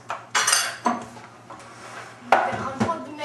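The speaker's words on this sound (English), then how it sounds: "We're going to eject our beaters by pushing the button." Beaters ejected from an electric hand mixer by pressing the button while making banana bread dessert, producing a few close metallic clacks and rattles as the beaters drop and knock against a bowl or counter.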